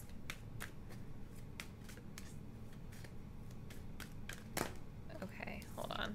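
Tarot cards being shuffled and flicked during a reading, with light intermittent snaps and riffles close up over a steady low background hum, one sharper slap standing out near the end.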